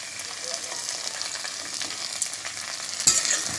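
Ground spice paste goes into a pan of fried potatoes for samosa filling, bringing a steady moderate sizzle with light stirring and a louder hiss near the end as the paste hits the oil.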